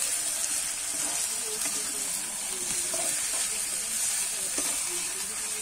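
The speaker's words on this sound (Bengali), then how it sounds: "এবারে কিন্তু ভালো করে আমি কষাতে থাকবো।" Meat sautéed in a pan with green chilies and chopped tomato gives a steady, close sizzle with soft stirring scrapes throughout, no voices over it.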